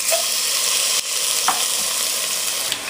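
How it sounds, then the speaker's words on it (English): Oxtail sears in hot oil in a pot over high heat, a loud, close, steady hiss of frying with a brief break and a couple of faint knocks, no voices. "all you're going to do is allow the oil and the heat to just kind of sear the meat real well"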